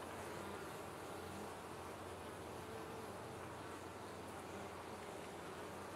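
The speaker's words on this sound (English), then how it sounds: "now that seems to be over as the foragers return with their pollen baskets full" Honeybee foragers return to the hive with full pollen baskets, making a continuous dense buzzing drone that stays steady and fairly faint throughout, with no voices.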